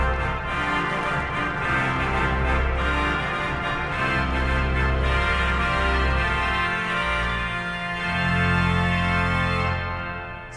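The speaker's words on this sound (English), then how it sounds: "So quite a strong trumpet sound here." Trumpet 8-foot and clarion 4-foot reed stops on the Old St. Patrick's Cathedral pipe organ, combined and coupled to the pedal, sounding a loud, dense, brassy passage with a deep sustained bass line throughout.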